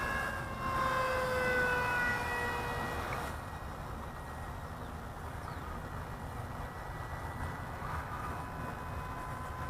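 A Freewing A-10 radio-controlled model jet flies overhead with a whining ducted-fan drone that holds loud, then eases into a steadier, slightly fainter roar as it passes farther away.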